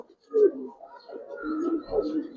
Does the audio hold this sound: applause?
no